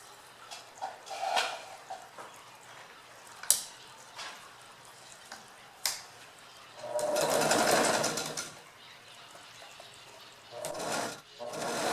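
A sewing machine runs a zigzag stitch across fabric layered with batting, heard in one clear sustained burst of whirring among scattered soft handling noises and short mechanical clicks.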